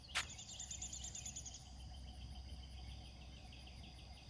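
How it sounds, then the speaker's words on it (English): Outdoor insects chirp steadily alongside bird calls on a morning behind a suburban subdivision, with a brief sharp click near the start over a low background hum. "You hear the birds and the animals."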